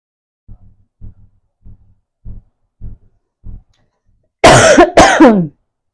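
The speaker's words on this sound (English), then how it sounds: "I felt that deep cough coming in." A series of soft, muffled thumps, then two deep, harsh coughs burst out loud and close, one right after the other.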